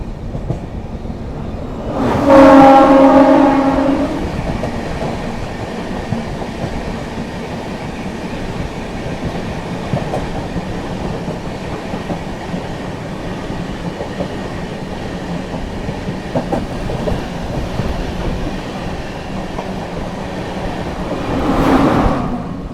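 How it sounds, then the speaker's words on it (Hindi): An Anand Vihar Terminal–Chhapra Amrit Bharat Express passes close by with a continuous loud rumble and wheel clatter, horn blasts sounding near the start and again at the end. "चलिए दोस्तों यहाँ पर सामने से आती हुई आनंद विहार टर्मिनल छपरा अमृत भारत एक्सप्रेस।"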